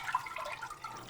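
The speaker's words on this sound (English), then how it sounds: "So we'll be pouring in our banga right into our pot." Banga palm nut extract, creamy and thick, poured into a cooking pot, a soft close liquid splashing and gurgling pour that runs steadily for about a second.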